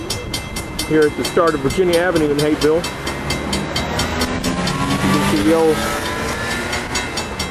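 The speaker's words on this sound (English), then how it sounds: "one of my videos wouldn't be complete without a train" A train rolls past along Virginia Avenue in Hapeville, Georgia, a loud steady rumble with repeated rhythmic clatter and a horn blowing, while someone talks over it.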